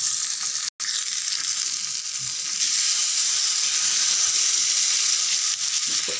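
Sankara fish frying in hot oil, a loud continuous crackling sizzle that holds steady for several seconds, broken only by one brief dropout.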